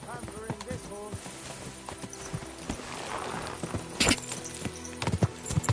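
Horse hooves clip-clop in the medieval role-playing video game Kingdom Come: Deliverance 2, in an uneven rhythm with a whinny and scattered clatter, close and moderately loud, over a soft background.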